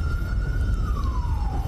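A fire engine siren wails with a steady high tone that slowly drops in pitch, heard over low rumbling traffic and crowd noise as fire trucks arrive at a large blaze in Los Angeles.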